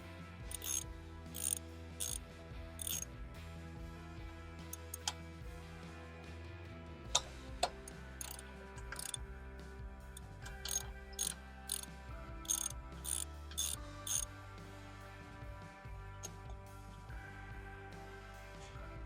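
A hand ratchet clicking in quick repeated strokes while loosening the winch bolts on a 1985 Toyota pickup, the sound coming in short bursts with pauses, close up and fairly quiet.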